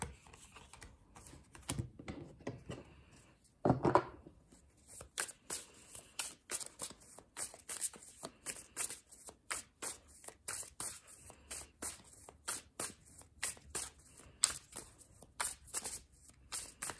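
Tarot cards being shuffled up close in quick riffling bursts, a steady run of crisp flicks and taps repeating after a brief softer rustle.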